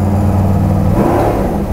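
A 598ci big block engine in a Chevy Nova revs hard up close, a loud deep rumble that climbs in pitch midway and holds as a steady roar.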